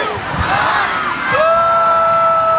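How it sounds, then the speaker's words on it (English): Crowd at a nighttime balloon glow during the Atlantic Balloon Fiesta in Sussex, New Brunswick, cheering and whooping loudly after a countdown, a sustained swell of voices with rising shouts near the end. "work the crowd and give them a big cheer"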